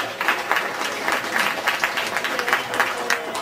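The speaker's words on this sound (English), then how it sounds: "Let's give them a nice round of applause." A studio audience on a backlot tour at Disney-MGM Studios, Hollywood Studios, bursts into steady applause, a dense wash of close and distant clapping with faint voices beneath it, sustained for a few seconds.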